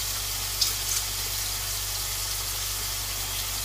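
Mushrooms fry in a pan with a steady, hissing sizzle that holds constant throughout. Only a couple of faint clicks break it up.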